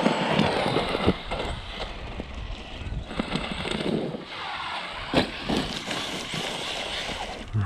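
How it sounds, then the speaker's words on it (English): An Arrma Krayon 4S hybrid RC car with a totalled rear differential drives in front-wheel drive only, its motor whining and drivetrain rattling continuously close by, with sharp clacks and bursts of grinding throughout. "Sounds nice now, the rear diff's gone."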